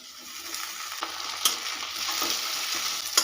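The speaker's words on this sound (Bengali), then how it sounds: "টমেটোটা ভালো করে একটু মিশিয়ে নেব" Continuous frying sizzle from a pan of chopped tomatoes and onions, with intermittent stirring scrapes and taps against the pan, moderately close.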